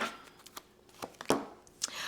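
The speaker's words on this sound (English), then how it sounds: "You saw how well I shuffled those cards" Tarot cards being shuffled by hand during a weekly astrology reading, heard as a few short papery riffles and snaps spaced unevenly, close and fairly clear, with a little speech-like sound around them.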